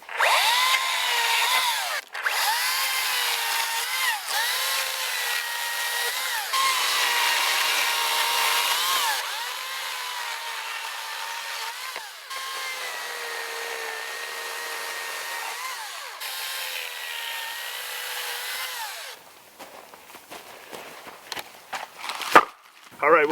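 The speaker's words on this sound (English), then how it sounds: "This thing's a beast for a battery-powered chainsaw" A battery-powered chainsaw cuts firewood at a campsite, whining steadily and loudly for long stretches with slight pitch dips as the chain bites, then easing off into short bursts near the end.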